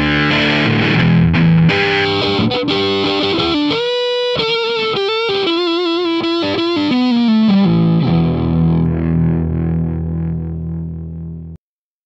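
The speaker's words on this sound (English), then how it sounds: "here's how the phase sounds flipped." Heavily colored, distorted electric guitar playing through a Placid Audio Copperphone microphone with its phase flipped, thick sustained chords and a melodic run in the middle, loud and continuous, ending abruptly.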